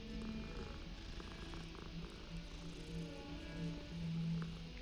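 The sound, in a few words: calico cat purring in Hogwarts Legacy video game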